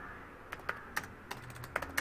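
Typing code on a computer keyboard for an Angular Material table, about nine separate sharp key clicks at an irregular pace, close and clear over quiet room tone.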